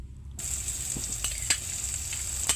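Tomatoes sautéing in a hot pan give a steady, close sizzle and crackle with a few soft stirring clicks and scrapes, with no talking.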